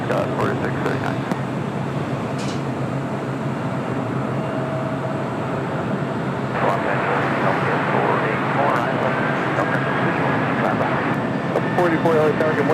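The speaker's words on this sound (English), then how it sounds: "Our next arrival coming in from Shanghai, China Southern Cargo flight 441. It's a 777 freighter." China Southern Cargo Boeing 777 freighter arriving at LAX from Shanghai, a sustained broad roar of jet engines at a distance that swells somewhat midway, with faint radio-style voices now and then.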